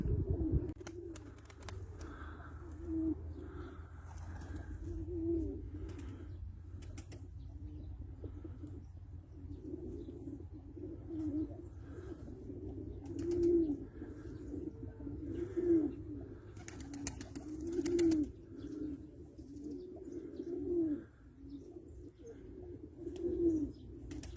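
Pigeons coo in a loft, repeated soft throaty calls recurring every couple of seconds at moderate distance, with occasional faint chirps and wing flutters over a low background rumble.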